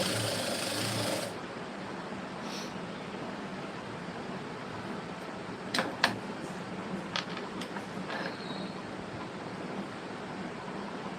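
Sewing machine stitching a lined blouse, a faint steady mechanical whir with a burst of louder noise at the start and a few sharp clicks and taps partway through.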